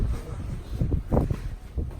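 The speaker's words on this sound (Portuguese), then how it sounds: "Tá ventando tanto que eu não sei se eu vou conseguir fazer esse vlog pra vocês." Strong gusty wind buffets the microphone outdoors in the old city of Akko, Israel, in uneven low rumbling bursts with a loud gust near the middle and no clear speech.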